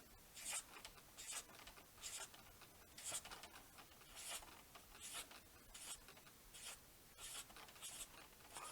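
A marker or pen draws a cluster of grapes, with rhythmic bursts of scratchy rubbing strokes repeating about once a second, soft and close, with no voices.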